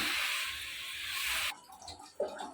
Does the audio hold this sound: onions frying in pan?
no